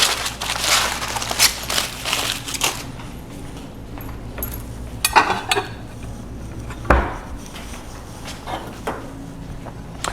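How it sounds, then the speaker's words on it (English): Table knife cutting through soft roasted sweet potato on a plate, with scattered clinks and scrapes of metal on ceramic, a few louder knocks between quieter handling sounds. "This is simply a table knife, and it just slides right through the whole sweet potato."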